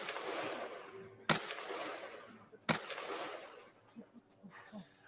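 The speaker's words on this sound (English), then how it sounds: "they literally pull their vehicle over and shoot the shit out of it" Two sharp, loud gunshots about a second and a half apart, fired by men at a roadside camera, each a sudden crack followed by a decaying rumble, with faint scattered sounds between.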